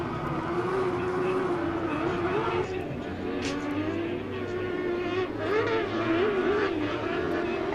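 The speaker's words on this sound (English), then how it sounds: "the difference in the sounds of all these cars out there" Short course race cars roar around a track in a loud, continuous engine drone with shifting pitch as the pack runs together, while a commentator talks over the noise.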